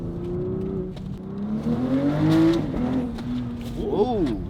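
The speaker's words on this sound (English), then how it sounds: "Whoa, the shift sound was cool." A BMW X7 40i's B58 engine note through a Valvetronic exhaust climbs with throttle, dips sharply at a gear change, then rises again, loud and close.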